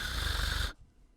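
A man breathes heavily on a recording, a loud, rough, snore-like exhale that cuts off abruptly, leaving faint background.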